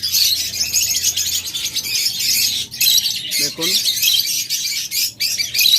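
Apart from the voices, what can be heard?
lovebirds and budgerigars chirping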